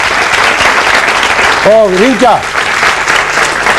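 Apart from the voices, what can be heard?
audience applause for a quiz winner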